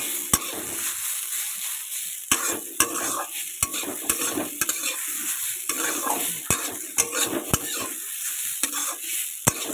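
Salted potato pieces fry in a hot pan with a steady broadband sizzle, punctuated by sharp clicks and scrapes of a spatula stirring them at irregular intervals; no voices.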